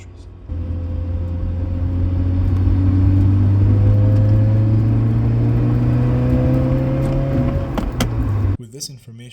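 A steady low exhaust drone hums inside a moving car, rising slowly in pitch as it accelerates, then cuts off near the end.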